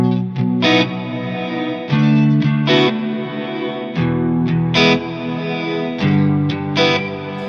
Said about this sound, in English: when I put both together, it's a really unique modulated reversed sound